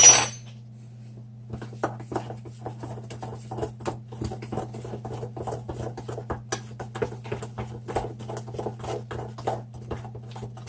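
A utensil scraping and clinking against a bowl while mashed sweet potato and paprika are mixed into a paste, steady irregular taps and scrapes over a low constant hum.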